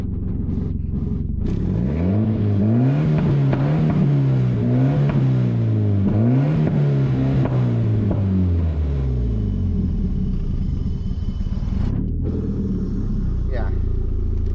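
Volvo 940 Turbo with a standard LH4.2 engine and three-stage switchable anti-lag, revved in repeated rising and falling sweeps. The engine note is loud and close, with a steady rumble between pulls and brief voices near the end.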